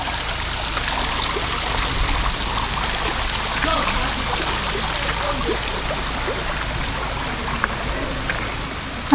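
Steady rushing water at Kaunayan Falls, flowing down from the mountain into a pool, a constant broadband stream close by with a faint voice now and then beneath it.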